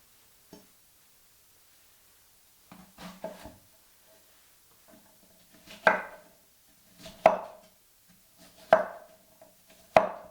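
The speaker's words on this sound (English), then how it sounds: "So let's chop everything and prepare" Ingredients chopped with a knife on a wooden board for a Moroccan couscous dish: scattered soft taps at first, then four sharp, evenly spaced chops ringing out close and clear, with no talking.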